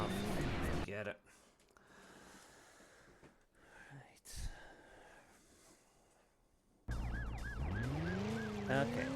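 Wailing police sirens in the 1999 PlayStation game Driver, set in Los Angeles, loud at the start and again near the end with a rising, sweeping pitch, and a quieter engine-and-traffic stretch between them.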